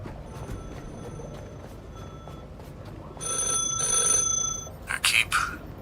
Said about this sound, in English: That phone is ringing again.